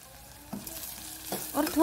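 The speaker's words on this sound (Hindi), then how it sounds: "अभी इसमें थोड़ा सा कटा हुआ लहसुन डालेंगे" Chopped garlic hitting a hot pan of frying onions for dalma, a short burst of sizzle and stirring scrapes that swells louder toward the end.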